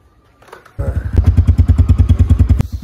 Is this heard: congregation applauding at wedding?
no